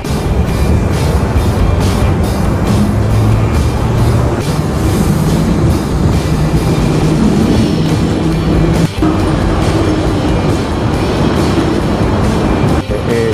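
A double-decker tram rolls through North Point, Hong Kong, with a steady loud rumble and rattle of rail travel, continuous throughout and mixed with street noise.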